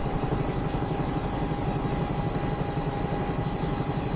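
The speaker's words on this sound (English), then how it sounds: "This helicopter is just so stable and so awesome to fly around in." Helicopter in the X-Plane 11 flight simulator cruising steadily, a dense continuous rotor and engine drone with a fine rhythmic chop and a thin high whine, loud and unbroken, with no voices.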